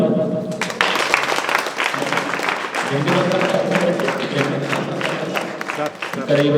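Clapping from a crowd at a school welcome ceremony runs almost continuously, mixed with loud voices chanting or singing along, with brief dips before picking up again.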